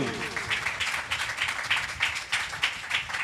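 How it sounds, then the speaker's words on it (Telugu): A church congregation claps hands in praise, a fairly loud, irregular burst of many overlapping claps sustained throughout. "యేసయ్యకు చప్పట్లు కొట్టి ఘనతనిస్తాము"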